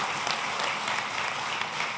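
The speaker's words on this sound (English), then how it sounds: "I say we give them a huge round of applause for that effort" An audience at a community grants ceremony gives a round of applause, a dense, even wash of many hands clapping throughout at moderate level, with no voices.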